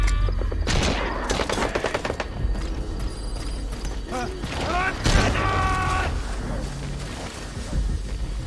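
Gunfire bursts and mechanical clatter during a combat side op in the video game Metal Gear Solid V, loud and near, mixed with electronic alert tones and radio-style voices.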